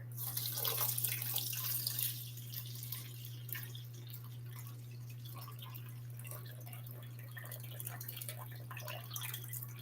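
Warm water runs steadily into a mixing bowl for sourdough bread dough, a continuous soft splashing pour heard alone, close and fairly quiet over a low steady hum.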